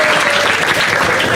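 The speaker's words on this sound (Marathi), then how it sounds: "एकदा टाळ्या वाजवा माझ्यासाठी" Studio audience at a stand-up comedy show breaking into loud, dense applause, a steady wash of clapping that fills the whole short moment without any voices over it.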